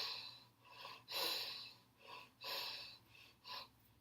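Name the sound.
breathing during yoga pose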